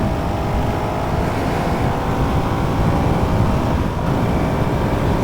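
Honda CRF 450 RL dirt bike, stock, held at full throttle, giving a loud, continuous engine roar that stays steady and close for the whole stretch with no talk.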